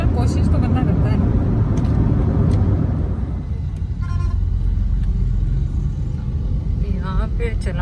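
Dense road traffic on the entry road into Hyderabad toward Latifabad: a steady rumble of cars, trucks and buses close by, with occasional horn toots and people talking over it.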